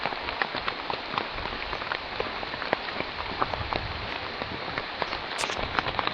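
Hail pelting down during a Himalayan blizzard on a Nepal trek, a steady dense patter of sharp icy ticks and taps on surfaces close by, fairly soft and continuous, with no voices.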